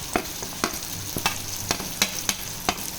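Prawns fried with onion, ginger and garlic in oil are stirred in a pan for a prawn curry, giving a soft sizzle and a regular series of sharp spoon scrapes about every half second, close and fairly quiet.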